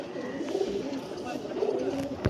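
Several soft, low coos from Punjabi pigeons in a pigeon sale setting repeat at close range, with someone talking over the birds.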